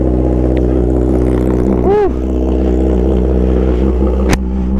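A 2024 Kawasaki ZX10R motorcycle fitted with an SC Project exhaust rumbles loudly and close, a deep steady engine drone with one quick rising and falling rev swell in the middle.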